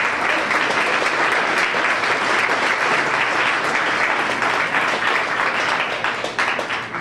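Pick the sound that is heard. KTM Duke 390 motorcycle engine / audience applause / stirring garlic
audience applause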